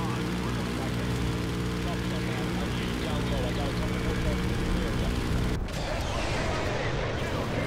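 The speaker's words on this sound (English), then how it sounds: "I'm gonna kill that helicopter, then kill the fucking tower." Constant low whirring of a video game helicopter's rotor drone, steady and fairly loud, with a sharp shift in the noise near the end.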